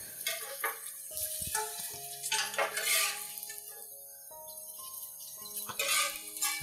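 Potato pieces pan-fried in a wok and stirred, with a metal utensil scraping and clinking against the pan in irregular bursts over a faint sizzle, close up and without talk.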